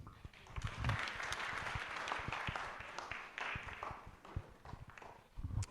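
An audience at a Kenyan youth conference on the Sustainable Development Goals breaks into applause: dense, sustained clapping fills the whole stretch, swelling and easing slightly, with a few faint voices underneath.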